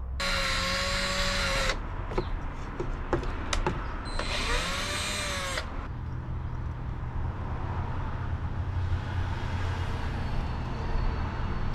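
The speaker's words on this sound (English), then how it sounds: "that hole's just not quite big enough, so I need a slightly bigger drill bit." A power drill whines loudly in two bursts, revving up and down as it drills a hole in a Peugeot Boxer van during a campervan conversion, followed by a low rumbling background hum.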